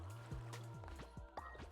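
Crops are watered in a video game: quick, bubbly splashing and gurgling effects come in several short bursts, soft and close, with no talking.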